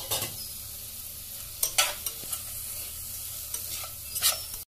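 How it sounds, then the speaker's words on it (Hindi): Spices sizzle softly as they roast in a hot pan, with occasional scraping and stirring strokes of a utensil, close up and without talk. "इसे अब मैं थोड़ा भूनूंगी।"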